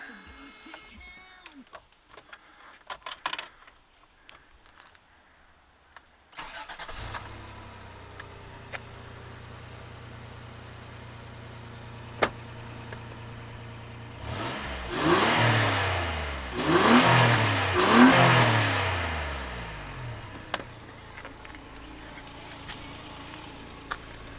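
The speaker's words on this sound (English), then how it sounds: "See, the engine sounds pretty good." Toyota 4Runner engine starting up after a quiet stretch, then idling with a low steady hum before several loud rising revs in quick succession that settle back down, recorded close by.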